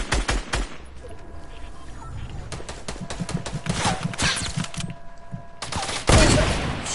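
Rapid bursts of video-game gunfire in a Fortnite-style battle royale, dense broadband cracks and rattles in quick succession throughout, with a louder close volley near the end.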